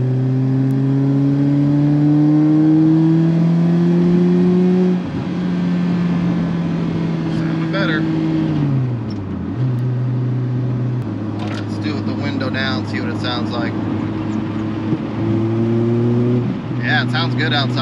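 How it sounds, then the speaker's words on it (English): The exhaust of a 2003 Pontiac Vibe GT with a Vibrant resonator hums steadily around 4,000 RPM, its pitch dropping to a lower idle partway through, with someone talking over it. "I do want the exhaust to sound good."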